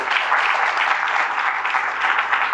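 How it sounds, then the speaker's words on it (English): Loud, even applause from an audience at a community Rotary club gathering, continuous dense clapping heard close and alone throughout. "So very big round of applause to all of them."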